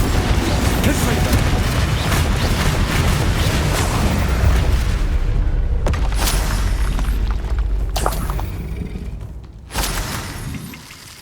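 Confringo spell blasts in Hogwarts Legacy: loud, repeated booming explosions with crackling, shattering debris. A voice calls out spell names over the barrage.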